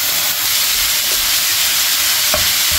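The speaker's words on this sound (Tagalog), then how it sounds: "Gawin natin yan hanggang sa maging fragrant na tong yung bawang at sibuyas." Ground meat with garlic and onion sautéing in a pan, a steady sizzling hiss with a few soft scrapes of stirring, close and fairly loud, no talking.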